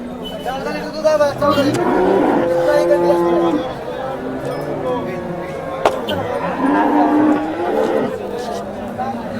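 Cows moo amid a busy crowd at a cattle market in Sangola, Maharashtra, with people talking and general market chatter all around and a couple of sharp knocks.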